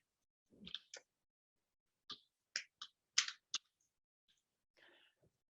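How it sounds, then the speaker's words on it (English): Sparse, crisp keyboard clicks as a code is typed in by hand, a handful of separate keystrokes spaced irregularly in an otherwise quiet room. "So I'm going to have to type it in manually."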